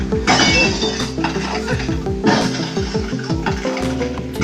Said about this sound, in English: the creators of the bridge even added sound and graphics of cracking glass to make it even